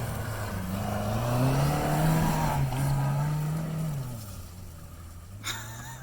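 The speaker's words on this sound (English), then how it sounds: "She's going to be piloting the good old Toyota Matrix." A Toyota Matrix driving a lap around a yard, its engine droning loud and close as it revs up, holds and then eases off, with the pitch rising and falling and some tire noise before it fades slightly at the end.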